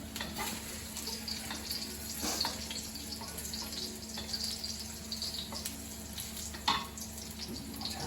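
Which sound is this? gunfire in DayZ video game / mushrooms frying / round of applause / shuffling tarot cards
mushrooms frying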